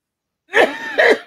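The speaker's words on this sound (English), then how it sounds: "I'm so sorry about the coughing." A person coughs and clears their throat twice in quick succession, close and loud, two harsh bursts alone with no speech.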